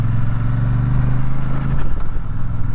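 A 2024 Royal Enfield Super Meteor 650 motorcycle engine hums steadily while riding, a loud sustained drone with a slight shift in pitch near the end, with no voices.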